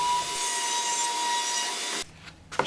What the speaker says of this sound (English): I arrange stacks, and then I send it through the trimmer